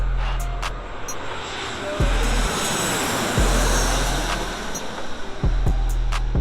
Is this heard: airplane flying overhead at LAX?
yes